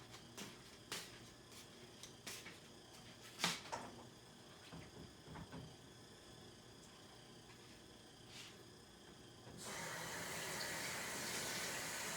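A cutting board is handled at a kitchen sink with scattered knocks and clatters. Then the tap opens into a steady, fairly loud rush of running water that continues to the end.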